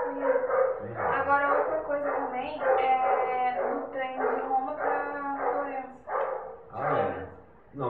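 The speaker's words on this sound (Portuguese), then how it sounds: "desculpa o latido do cachorro, não tem jeito," A dog barks and yips repeatedly in the background while a person keeps talking in Portuguese over it, the barking partly buried beneath the steady speech.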